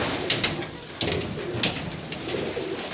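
Pigeons coo in a short series of soft, low calls close by, with faint bird chirps and a brief door-like knock mixed in.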